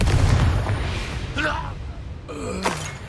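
Confringo spell explosions in the video game Hogwarts Legacy: a couple of sharp, broad bursts rising out of steady game ambience, with a voice briefly audible.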